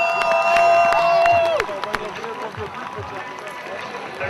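Crowd applause and cheering for senior cheerleaders at a high school football senior night, loud at first under a public-address voice, then thinning into scattered clapping and crowd murmur.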